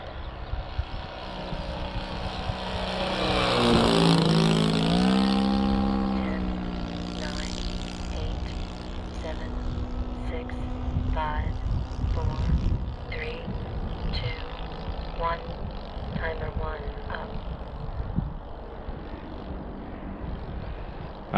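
A large balsa H-King PC6 Porter RC plane on its maiden flight drones overhead, its motor swelling loudly as it passes near and then thinning to a steady distant buzz, with wind buffeting the microphone.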